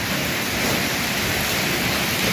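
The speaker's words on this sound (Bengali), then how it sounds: "কত জোরসে বৃষ্টি পড়ছে" Heavy monsoon rain pours down in a dense, constant roar, loud and even throughout with no other sounds standing out.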